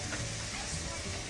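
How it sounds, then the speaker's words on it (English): Onions saute in a pan for a lasagna, a steady, close, continuous sizzle that stays even in level for its whole short length, with no one talking. "Our onions are in the pan now, and we're sauteing them"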